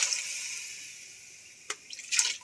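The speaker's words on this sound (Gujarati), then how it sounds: "નિમક મસાલો નાખાઈ ગયો, પાણી રેડી દીધું છે સરસ મજાનું" Water is poured into a cooking pot of salted, spiced food: a faint, steady hiss of flowing liquid, then a few louder splashes near the end.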